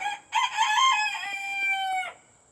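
A rooster crowing in a backyard flock: one clear, close cock-a-doodle-doo that rises, holds and then cuts off, with no other sounds around it.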